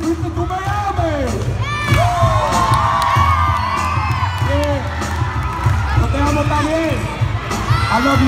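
A crowd of schoolchildren screams, whoops and cheers at a test-prep rally, a loud, dense and sustained roar with shrill shouts rising above it.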